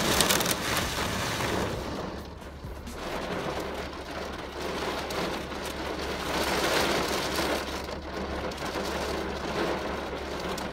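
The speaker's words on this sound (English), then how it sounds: "Actually, the rain just came." Rain falls steadily, a continuous fairly faint crackling patter on surfaces with no voices.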